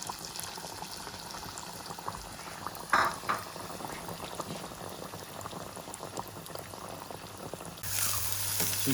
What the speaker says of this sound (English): So let's get this tofu frying,